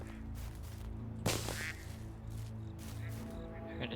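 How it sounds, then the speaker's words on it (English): A duck in the video game Medieval Dynasty gives a short, loud quack burst amid a low background ambience, followed by a few fainter calls. "Heard a duck."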